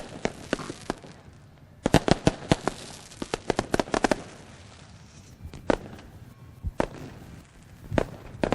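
Fireworks from Lone Wolf Fireworks burst over Ohsweken Speedway after a sprint car race, a rapid series of sharp cracks and pops in irregular clusters, some bunched tightly and others spaced out, over a steady crowd-like murmur.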